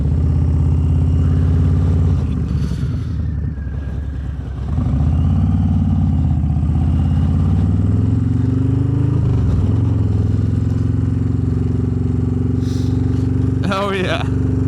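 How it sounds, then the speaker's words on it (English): A Harley-Davidson Low Rider S with a 131 engine rumbles loud and close while being ridden, a deep steady exhaust drone with a brief dip partway and a clatter near the end. "you'll get to hear this exhaust quite a bit over the next couple moments"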